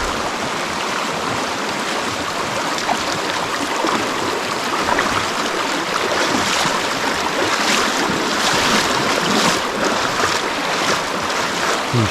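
River water rushes and splashes steadily and loudly during a crossing on foot, with a broad, continuous wash and some wind noise on the microphone.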